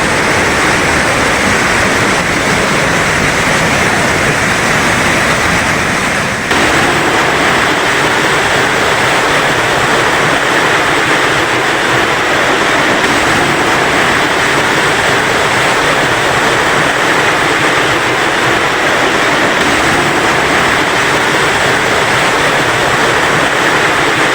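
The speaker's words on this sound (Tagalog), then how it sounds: "Welcome to Dao Falls, Cebu, Philippines." Dao Falls in Cebu, Philippines roars as a steady, dense rush of falling water, loud and close, continuing unbroken for over twenty seconds.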